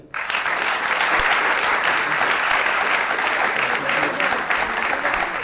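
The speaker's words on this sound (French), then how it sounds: "On peut les applaudir" Audience at a pleading competition final applauding the jury members, a sudden burst of loud, dense clapping that holds steady and full for several seconds.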